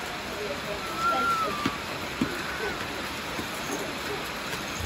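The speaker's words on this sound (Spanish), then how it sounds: "Jueguen aquí porque está lloviendo gordo." Heavy rain falls outdoors as a steady, broad hiss of downpour, with faint splashing and distant voices underneath.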